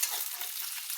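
Peanuts and curry leaves frying in oil on low heat for a chutney, a soft, even, high sizzle heard faintly and briefly, with no voices.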